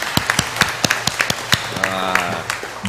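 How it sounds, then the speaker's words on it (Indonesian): A church congregation at an ecumenical prayer-week service in Wedi, Klaten claps in scattered, uneven bursts, moderately close and loud, with no talk over it. "Yuk tepuk tangan untuk kita semua."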